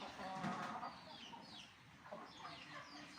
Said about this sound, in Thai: พวกไก่ชนก็จะปีน เกาะตามเหล็กอย่างนี้